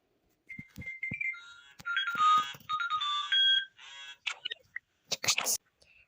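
A phone ringtone from the Toca Life mobile game plays as a bright, warbling electronic melody in short bursts, mixed with voices and small clicks.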